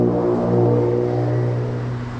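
A car engine revs outside in a loud, sustained drone that holds steady, then eases slightly toward the end.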